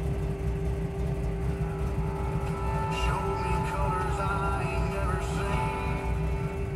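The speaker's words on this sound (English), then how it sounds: "It's got the muscle car sound, the muscle car idle." A 1969 Chevrolet Camaro SS-style muscle car engine idles with a deep, steady rumble, briefly rising as it revs a couple of times midway before settling back.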